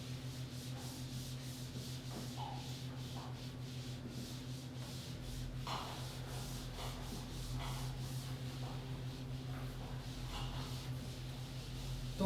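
Steady rubbing and scrubbing of a board being wiped clean in a classroom during a physics lesson, continuous and moderately close, with a low background hum and no talking.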